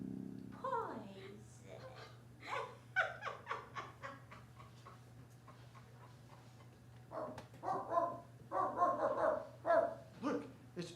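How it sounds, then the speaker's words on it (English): Voices in a radio play of The Wizard of Oz carry on over a steady low hum, with short dog-like barks and yips mixed in among the speech in bursts at the start and again near the end. "Look, it's Dorothy's dog"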